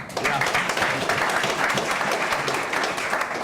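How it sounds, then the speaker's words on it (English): A round of audience applause at a startup-week business talk, steady moderate clapping throughout, with a faint trace of voices underneath. "So I think he deserves another round of applause."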